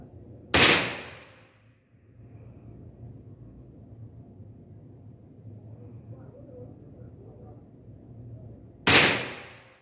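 Two sharp rifle shots from a Delta .22LR fired at a steel target, several seconds apart, each a loud crack with a short ringing tail, separated by a quieter stretch of outdoor background noise.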